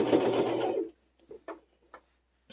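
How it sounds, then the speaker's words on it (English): A sewing machine runs in one close, steady burst as it stitches through two layers of fabric, then stops, leaving a few soft handling clicks and taps. "we want to make sure that we are sewing on both pieces of fabric."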